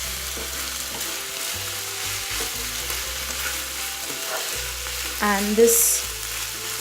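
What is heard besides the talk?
stirring mushroom and vegetable stir fry in pan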